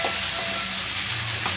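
Boiled legumes are tipped into a hot pan of oil for a home-style uppsaaru, setting off a loud, close, continuous sizzle with stirring and no speech.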